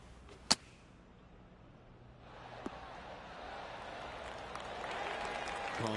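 A gallery of spectators claps in the Golf 2K23 video game after a golf shot; soft applause swells after a sharp click and holds steady at a moderate level.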